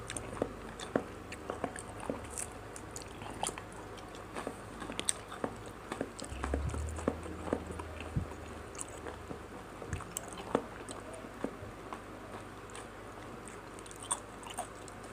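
Chewing raw beef, which is tough and chewy, heard up close as a steady series of soft, wet bites and squishes with small crunches spaced through the quiet background, with no talking.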